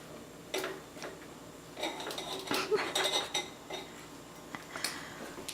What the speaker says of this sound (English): And we're going to add it to this little mixture.